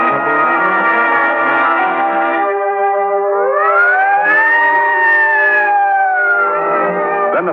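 Sirens howl as a radio-drama sound effect, several overlapping wailing tones that sustain, then rise and fall in slow sweeps. The sound is loud and close, with no talking over it.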